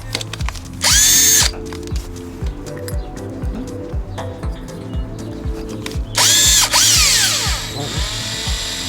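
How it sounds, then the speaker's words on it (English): A power drill pilot drilling holes into a dinghy transom, with two loud high whining bursts of the motor and quieter ratcheting clicks and knocks between them, close by. "I like to pilot drill it first."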